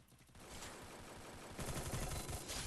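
A Bizon submachine gun in Free Fire fires at a fast rate, with shots blurring into a continuous rattling stream, quiet in level but steady throughout.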